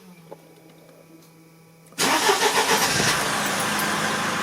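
A Mercedes car engine restarted after repair work: quiet hum with a faint tone, then the engine abruptly catches at about two seconds and settles into a loud, steady close-up idle.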